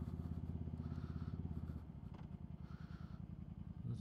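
A motorcycle rides along a quiet neighborhood street, its engine humming steadily at low revs and then shifting into a rougher, pulsing idle-like rhythm, recorded close from the rider's position.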